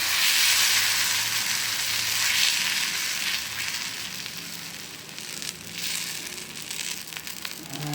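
Thick uttappam batter made from old dosa batter sizzles on a hot griddle, a broad, steady hiss close up that eases slightly partway through, with no voices.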